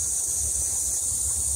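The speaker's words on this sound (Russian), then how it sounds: "хоть обдуло немножко ветром" Steady wind rumbles against the microphone with a low buffeting roar and a constant high hiss, no voices.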